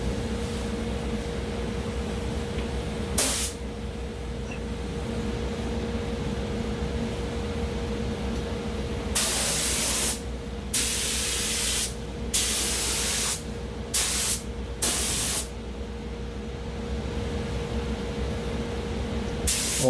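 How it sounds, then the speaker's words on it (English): Spray gun coating the inside of a car body panel on an HQ Holden: a steady airy hiss of atomised paint running continuously, broken by several short louder bursts as the trigger is pulsed, with no talk. "So now I'm just going to spray the inside parts of the panel."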